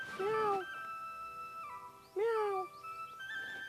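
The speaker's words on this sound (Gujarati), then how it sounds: "મીંદડી મુઈ છે, બીવડાઈ દીધી મને." A cat meows twice indoors, a drawn-out call at the start and a second, similar one about two seconds later, fairly close and clear over a faint steady background hum.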